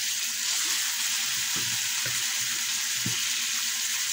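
Pork sizzles steadily in a hot pan, a bright continuous hiss with a few soft stirring knocks underneath, close and even.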